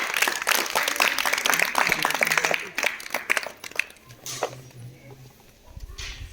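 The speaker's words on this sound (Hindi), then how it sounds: "गणितीय सदन की शुरुआत जोरदार तालियों की साथ करें।" Applause opens a class 8 maths lesson on algebra: a dense burst of clapping for about three seconds, thinning into scattered claps, with a voice and low hum coming through near the end.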